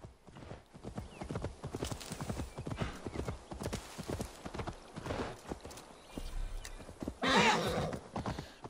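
Rapid rhythmic hoofbeats of a galloping horse in the video game Assassin's Creed Valhalla, steady and close, with a brief whinny near the end and faint background noise.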